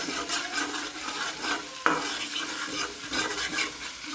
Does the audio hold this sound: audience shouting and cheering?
no